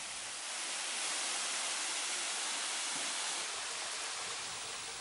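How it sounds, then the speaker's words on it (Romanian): Bigar waterfall in the Anina Mountains, water dropping about 7 metres into the Miniș river, a steady dense roar of falling water heard up close and continuous throughout, with no voices. "Apa care se prăvălește de la 7 metri înălțime în râul Miniș este potabilă"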